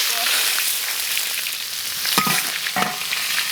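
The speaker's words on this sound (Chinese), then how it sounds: "咱们锅里加油，开始炒" Ginger and garlic stir-frying in oil in a wok, a steady bright sizzle with a couple of scraping stir strokes near the end.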